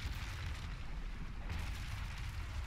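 Deep, continuous booming rumble of heavy ship cannon fire in the naval game Naval Action, loud and sustained with low thuds rolling over one another throughout.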